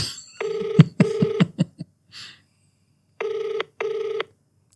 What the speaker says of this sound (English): Oh, I called Joyce